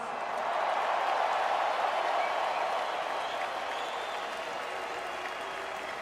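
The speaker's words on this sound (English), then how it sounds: "give yourself a round of applause." Sustained crowd applause from Laker fans filling a large arena, a dense steady wash that swells early and then holds at a slightly lower level to the end, with faint voices mixed into the noise.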